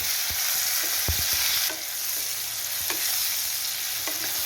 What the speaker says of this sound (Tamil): தக்காளி நல்லா மசிகிற வரைக்கும் வதக்கிக்கோங்க.